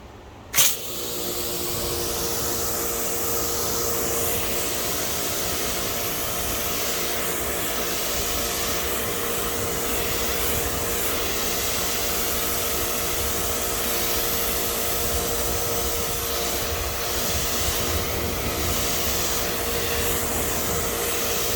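After a sharp click at the start, a steady, loud hiss of water spray continues, rinsing foam soap and SiO2 paint protection off a car, close and unbroken throughout.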